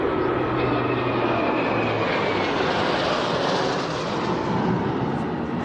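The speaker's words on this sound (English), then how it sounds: "And the aircraft not using the display axis, but straight down the runway" An aircraft arriving at the Royal International Air Tattoo 2022 flies straight down the runway, a loud steady engine roar with broadband rush and a faint whine that slowly shifts pitch as it passes.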